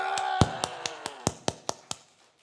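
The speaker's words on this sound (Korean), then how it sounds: "박수!" A lecture audience claps in a brief burst of about nine crisp, separate claps that start over a voice and quickly thin out and fade into silence.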